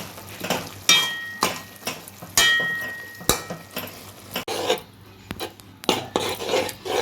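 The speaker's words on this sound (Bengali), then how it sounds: "দেখুন এইভাবে সমানে ঘাঁটতেই হবে শাকটা, একদম পেস্ট হয়ে যাওয়া পর্যন্ত" Cooked greens (shak) being mashed to a paste in a pot: close, irregular scraping strokes and metallic clinks of a utensil against the pot repeat steadily, with no talking.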